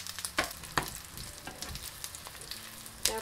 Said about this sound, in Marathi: अशा प्रकारे आपण आता या फ्राय करून घेऊया.